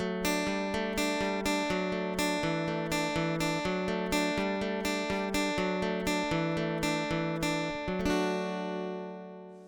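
Acoustic guitar with a capo plays a steady, repeating pop riff of plucked notes over a pulsing bass pattern, clear and close, ending on a ringing final chord with no talk.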